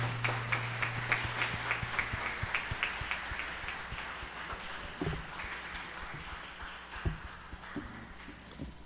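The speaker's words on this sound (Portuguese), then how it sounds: "E as palmas engrandecem o nosso Deus." Church congregation clapping in rhythm during worship, the claps near and steady throughout with a low sustained tone under them early on, then loose irregular beats later.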